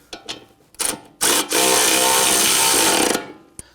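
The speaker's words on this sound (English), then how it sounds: "Let's go ahead and tighten down our nut here." Power tool driving down the axle nut on a 2004-2008 Acura TL front CV axle, a few short loud bursts followed by a sustained whirring run of about two seconds, then stopping.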